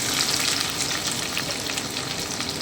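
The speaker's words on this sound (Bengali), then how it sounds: "আমি ভেজে নিচ্ছি 1 থেকে 2 মিনিট।" Chopped onion frying in oil with bay leaves, dried red chillies and whole cumin for dal fry, a steady, close, even sizzle and crackle throughout with no voices.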